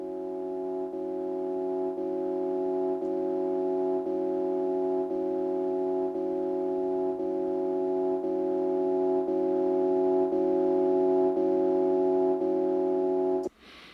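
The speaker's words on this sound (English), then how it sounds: "So that's a Digitact sample that was manipulated." A manipulated Digitakt sample on a fake-sidechain track plays as a steady sustained harmonic drone with a regular pulsing dip roughly every second and a gradual swell, cutting off abruptly at the end.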